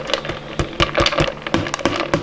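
Dry chana dal poured into a pressure cooker already holding pumpkin pieces, giving a run of crisp, rattling clicks and patters that sound close and fairly steady, with no talk.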